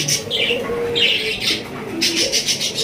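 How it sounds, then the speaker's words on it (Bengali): Pair of yellow King pigeons on a fancy pigeon breeding farm, giving short repeated coos and soft calls close by, in bursts over a quiet background. "দর্শক এখানে রয়েছে একজোড়া ইয়েলো কালারের কিং কবুতর দেখতে পাচ্ছেন"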